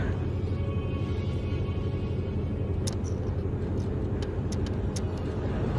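A heavily loaded car drives steadily with a constant low engine and road rumble, while faint clicks and knocks sound inside the cabin partway through.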